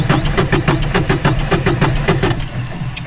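A Manitou telehandler's diesel engine cranks after a fuel filter change, a steady train of starter pulses repeating roughly every fifth of a second, loud and close with no voices over it.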